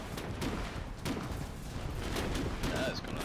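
Tank guns fire in the Foxhole war game, several muffled shots thudding at irregular intervals over a constant rumbling battlefield bed.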